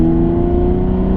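An Aston Martin Rapide S in manual mode drones loudly with a steady engine note at sustained revs, smooth and continuous with no gaps or shifts, heard from inside the car.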